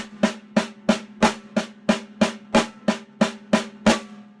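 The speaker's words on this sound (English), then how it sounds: "If I played all that on the snare drum, it would sound like this." Ten or so crisp snare drum hits played with both hands land at a steady moderate pulse, each a bright, rattling crack heard close and alone.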